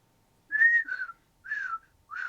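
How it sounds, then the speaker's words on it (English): A person whistles three short, breathy notes, each sliding slightly downward with pauses between, close and clear in a quiet room. "I wish I could whistle."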